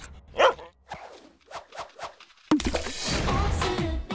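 A dog gives several short barks and yips, widely spaced and moderately close, followed by a louder burst of noisy clatter and commotion.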